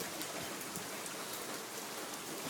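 Hailstones of fair size fall steadily during a Michigan hail storm, a dense, hissing patter of impacts heard close by and fairly faint, with no voices.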